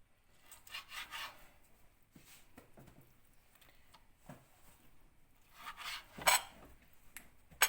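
Sheep offal is cut into large pieces with a knife, giving quiet, irregular scraping and rubbing strokes against a board, with a few sharper clinks of metal near the end, close and faint.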